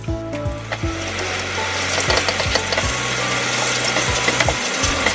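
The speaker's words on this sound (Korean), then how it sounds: "일단 버터 넣을 거예요. 버터 녹아야 돼요." Butter melts and sizzles in a pan for a sauce. The crackling sizzle is loud and continuous, and scraping and ratchet-like clicks run under it throughout.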